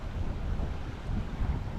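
A tiny waterfall in a shaded creek in the San Bernardino Mountains on a cool winter day, a steady close rushing and burbling of falling water with some wind rumble, no voices.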